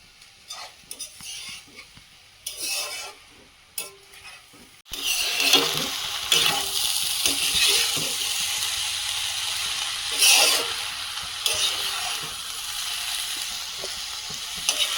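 Water spinach and bottle gourd greens with prawns stir-fry in a pan. A few scattered scrapes come first, then a loud, steady sizzle with stirring and clinks of a utensil runs to the end.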